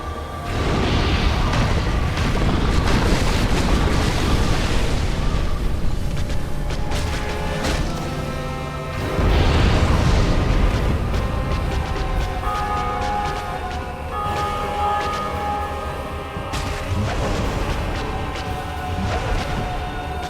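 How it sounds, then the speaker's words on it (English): A booming explosion in Dark Souls: Remastered, with deep, heavy bursts rolling out amid game effects; two big surges stand out, one near the start and another around the middle, and no voices. "I gotta anticipate the explosion better and just keep my distance"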